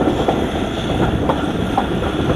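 Marvi Passenger train running at good speed on a desert track in the Thar, a loud continuous rumble heard from on board with a rhythmic clickety-clack of wheels over the rails.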